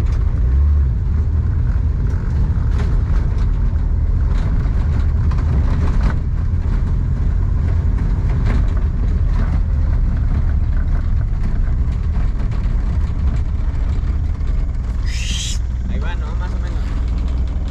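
A Volkswagen Caribe with worn brakes drives along in Mexico, its engine and road noise making a steady, loud low rumble throughout, with a person speaking over it.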